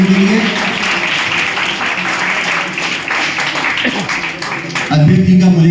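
An audience at a summer camp ceremony claps loudly and steadily in a hall for a pilot guest, with the applause continuing under a voice on a microphone and fading near the end.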